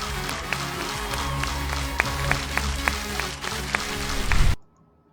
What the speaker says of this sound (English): Viewers can also clap freely along with chants.